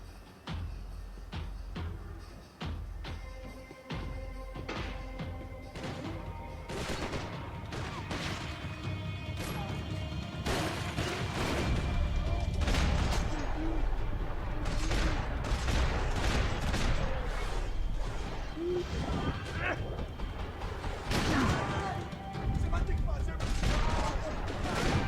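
Sustained gunfire from the shooter game Max Payne 3, dense bursts of shots and crashing impacts over roughly twenty-five seconds, loud and continuous with game music underneath and occasional voices.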